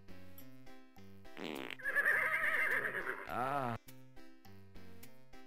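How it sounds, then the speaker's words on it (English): Horses neighing in the Freddy Pharkas: Frontier Pharmacist adventure game, a loud rising whinny lasting about two seconds mid-clip, ringed by short game music notes before and after. "The farting horses."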